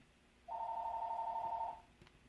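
A telephone rings once in a single steady electronic burst lasting just over a second, clear and fairly close against a quiet room, then falls silent.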